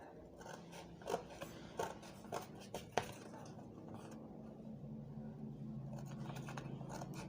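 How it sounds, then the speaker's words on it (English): Scissors cutting paper for a handmade gift box: a quiet series of sharp snips and crisp rustles in the first three seconds, then a soft steady rustling hiss, close by and alone. "Just cut it out like I told you before with your scissors."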